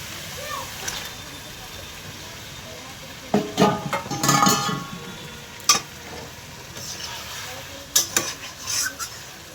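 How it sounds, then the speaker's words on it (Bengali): Meat goes into spice masala frying in a pan, with a steady low sizzle broken by louder bursts of stirring and scraping, close and moderately loud. "এখন আমি এই যে মশলাতে মাংসটা দিয়ে দেবো"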